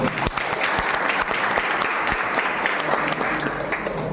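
Strong, sustained applause from a seated audience at a district event, steady and dense clapping that fills the whole stretch without pause.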